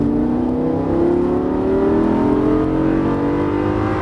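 A 530 hp Lamborghini Gallardo race car accelerates hard on a track, its engine note climbing steadily in pitch as it pulls, loud and close throughout.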